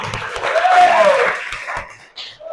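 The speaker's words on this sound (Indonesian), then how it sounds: "Aplaus kita semua." A classroom of high school students applauding together, a dense burst of clapping that swells and then fades, with a few voices mixed in.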